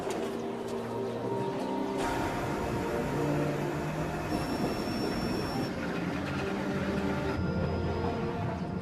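An aerial tramway car climbs the San Jacinto mountains on a cable, a loud continuous rumbling and grinding with metallic squeals and rattling as the car travels, steady throughout with no talk.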